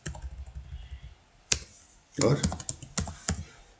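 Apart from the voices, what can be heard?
typing names on a computer keyboard in MS Word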